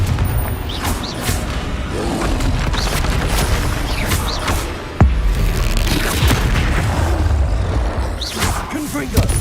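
Spell blasts and booms fill a Hogwarts Legacy fantasy battle, one sharp impact standing out amid a steady roar of effects, with a voice calling out under the din.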